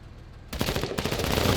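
Sudden burst of rapid gunfire in the MENACE video game, a quick loud fusillade of overlapping shots breaking in after a quieter moment.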